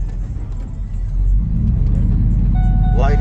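A rust-free Lightning pickup truck pulls away on the road, its engine a steady close rumble that swells and holds louder after the first second, with a brief rising whine near the end.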